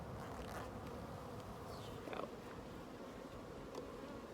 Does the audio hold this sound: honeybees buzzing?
yes